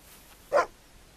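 A single short dog bark from the video game Fable II, heard once against quiet background.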